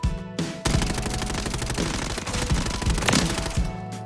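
Rapid sustained automatic fire from a Ram 7 assault rifle in the Warzone video game, a dense loud burst of shots lasting several seconds with a short pause at the start and no talking.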